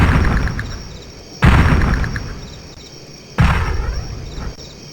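Weapons firing in the turn-based strategy game Spellcross, with two sharp loud bursts each trailing into a decaying rumble, set over a steady synthetic ambient bed.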